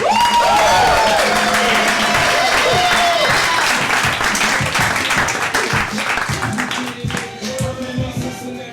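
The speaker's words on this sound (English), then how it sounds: "give a round of applause for Improv Cincinnati" A crowd applauds as an improv comedy group takes the stage, loud and close, dense clapping at first with some whooping, tapering gradually toward the end as a faint tone and murmurs come through.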